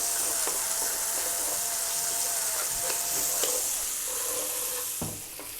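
Pork sizzles steadily in a pan over medium heat while it is stirred, a continuous close hiss broken by occasional scraping and light clinks.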